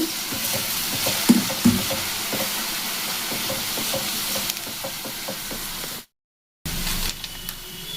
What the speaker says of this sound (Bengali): ছোলা সেদ্ধ জল একটু দিয়ে এটাকে কষিয়ে দেব